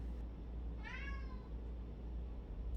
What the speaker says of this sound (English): Can you hear my cat? He wants to go outside.